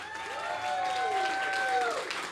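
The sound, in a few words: audience applause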